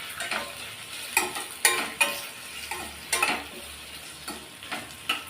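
Onions being sautéed in a pan for chapati gravy: a soft sizzle under repeated scraping and tapping of a spatula against the pan, close and without speech.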